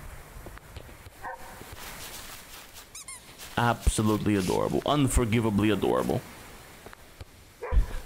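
A cute puppy in the video game Selfloss yips and barks in a few short bursts, mixed in with someone talking warmly over it.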